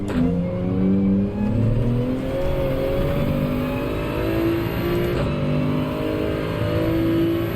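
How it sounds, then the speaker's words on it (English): A Toyota Supra race car in Gran Turismo revs steadily at high pitch, its engine note climbing and shifting in a continuous loud drone with no talk. "You rev it out a little more than you used to."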